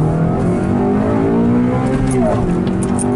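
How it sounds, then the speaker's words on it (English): Car engine revving through a newly fitted aftermarket air filter intake, a loud continuous engine drone with layered harmonics and rising intake roar throughout, with people talking over it. "Definitely more intake noise, which is nice."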